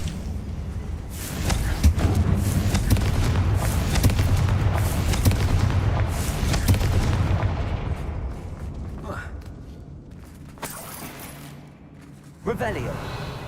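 Confringo blasting spell explosions in Hogwarts Legacy, a run of heavy booms and crackling blasts rolling over several seconds before fading, followed by a quieter stretch and a final sharp burst near the end.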